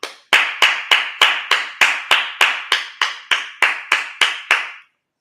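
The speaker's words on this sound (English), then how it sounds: "Let's clap it up." A congregation at a Sabbath service claps in unison, about fourteen crisp, evenly spaced claps in a steady beat, close and loud, then stopping abruptly.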